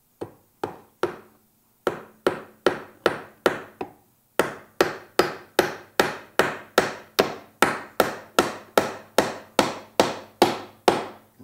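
A hammer drives a single nail into the wooden top of a bird house, a long series of sharp, evenly spaced knocks. Strikes come about twice a second after a couple of short pauses, close and fairly loud.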